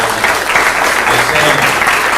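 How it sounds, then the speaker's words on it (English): An audience at a school board meeting gives a round of applause, a continuous loud wash of clapping from start to finish. "Again, another round of applause."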